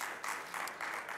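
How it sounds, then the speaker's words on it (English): An audience in council chambers at a 2023 State of the City address gives a short round of applause, heard as quiet, somewhat distant clapping in uneven bursts. "So that you can applaud that."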